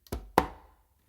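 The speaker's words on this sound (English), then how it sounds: "lay my non-dominant hand on the conga to then do a close slap with my dominant hand on the conga" Two quick hand strikes on a conga drum, a light muted touch followed by a sharp, crisp close slap, heard up close and alone with a short decay.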